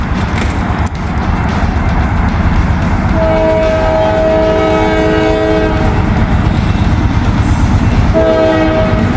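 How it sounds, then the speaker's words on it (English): A heavy Norfolk Southern freight train rumbles steadily past close by, wheels grinding and clattering, with a horn sounding in bursts partway through. "I got a Norfolk Southern train coming down the line."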